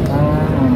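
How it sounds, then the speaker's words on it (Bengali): A dairy cow at the Bogura Dhaperhat cattle market lets out a short, loud, low moo up close, heard alone without talk. "এখানে আর একটা গাভি আছে।"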